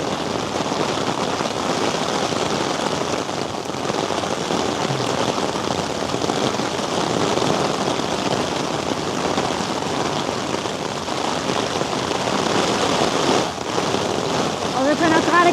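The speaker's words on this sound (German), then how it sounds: "Also ich denke mal, ihr hört den Regen, oder?" Steady heavy rain pours onto a cruise ship, the NCL Norwegian Nordland, making a dense, continuous hiss and patter that stays loud and even throughout, with faint voices mixed into the wash.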